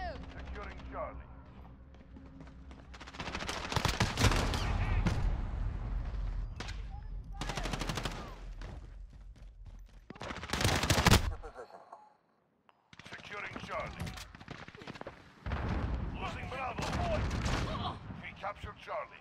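Bursts of automatic gunfire in a Call of Duty: Modern Warfare match, dense rapid volleys in several loud stretches broken by brief pauses, with in-game voice callouts heard between and under the shooting.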